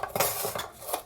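A knife slices through an onion for cucumber salad. Several short cuts knock against a board at close range, quiet and uneven.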